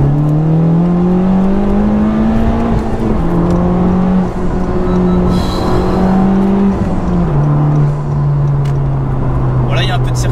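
A Honda Civic Type R FK2 accelerates hard on the road, its engine note rising in pitch through successive gears with brief dips at the shifts, loud and close from inside the car.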